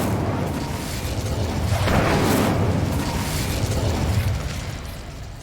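The Incendio fire spell in Hogwarts Legacy bursts out as a rushing, crackling whoosh that swells and fades over several seconds, heard alone without talk.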